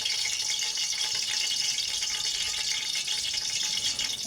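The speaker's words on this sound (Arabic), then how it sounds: "وهنا حطيت له بقى كوبايه من الزيت اهي" A cup of oil is poured over a spoonful of ghee in a pan for fatteh sauce, giving a steady, soft, hissing liquid trickle for several seconds with no talking.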